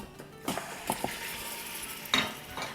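About a kilo of mutton goes into a pot with spices, giving a quiet sizzle and frying hiss punctuated by a few clinks and scrapes of a stirring spoon against the pot.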